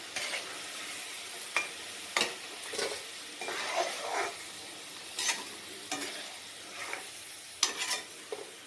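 French fries deep frying in oil make a steady close sizzle and bubbling, broken by repeated sharp clicks and scrapes of a strainer against the pan, with no voices.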